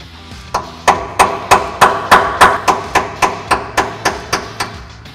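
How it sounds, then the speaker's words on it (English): Hammer blows on a chisel during a QA1 C10 suspension install, a steady run of about fourteen sharp metallic strikes, evenly spaced and close, with ringing decay between hits and no talk. "Now, I need a hammer and a chisel."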